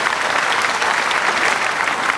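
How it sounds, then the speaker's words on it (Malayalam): Audience at a Malayalam film audio launch clapping in a dense, sustained burst of many hands, loud and steady with no talk over it. "അപ്പൊ അതിന് അവർക്കൊരു പ്രത്യേക കയ്യടി കൊടുക്കണം"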